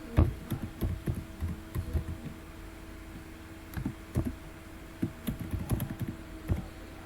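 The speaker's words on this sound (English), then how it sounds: "just type it" Someone types an address on a computer keyboard in scattered, uneven clusters of sharp key clicks over a low steady hum, with brief pauses between bursts.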